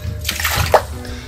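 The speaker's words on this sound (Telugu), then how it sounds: "ఒకసారి వాటర్ పోసి చూద్దాం." Water is poured over a freshly scrubbed balcony wall, a short close splash and trickle that swells briefly then keeps running softly.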